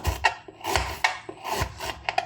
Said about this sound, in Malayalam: ഈ കാമ്പ് ഇതുപോലെ റൗണ്ടായി കട്ട് ചെയ്യുക.